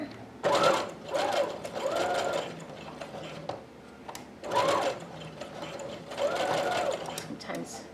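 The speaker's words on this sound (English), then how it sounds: "I'm gonna sew right in between that." A sewing machine runs in several short bursts as it stitches across gathered fabric, its close mechanical whir starting and stopping between pauses.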